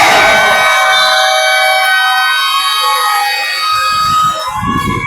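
A loud, sustained electronic buzzer sounds at a summer league basketball game, holding steadily for several seconds before the crowd and court noise come back in.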